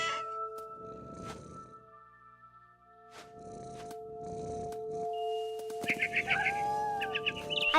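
A cat in the video game What Remains of Edith Finch gives a few short meows and a purr-like rumble against a quiet, game-scored backdrop, with sparse chirping near the end.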